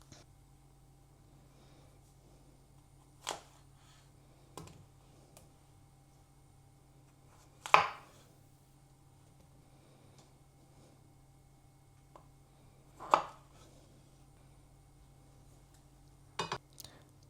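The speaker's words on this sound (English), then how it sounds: "the big ones I'm just going to dice in half" A knife cuts through mushrooms on a board in a home kitchen, giving a handful of sparse, sharp taps and clicks spaced several seconds apart over a quiet room hum.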